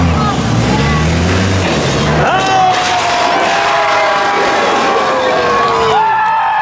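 A loud crowd cheers and shouts continuously at a car ramp competition, with engine noise and some voices mixed into the roar.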